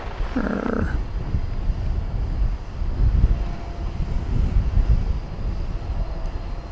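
A plane takes off from runway 18 Left at DFW Airport, heard as a broad, low rumbling roar that swells and holds, after a brief tonal chirp at the start.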